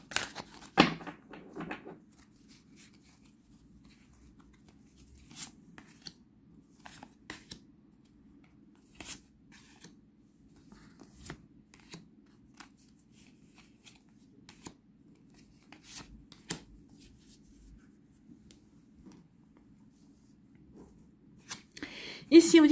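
Tarot cards being shuffled for a pyramid spread: a soft burst of card riffling at the start, then sparse faint card taps and slides with long quiet gaps, and more handling at the end, while someone speaks French over it.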